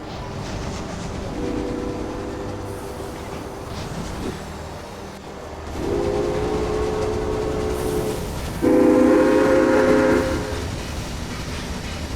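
A Super Hudson steam locomotive in the Railway Empire video game sounds its whistle in three sustained blasts, the last loudest, over a steady rumble of rolling wheels.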